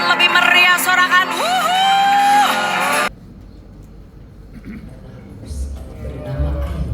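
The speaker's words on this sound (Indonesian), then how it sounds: "Boleh kasih tepuk tangan lebih meriah" A church congregation at an anniversary celebration cheers and whoops loudly with applause for about three seconds, then the noise drops abruptly to a quiet room with faint murmuring.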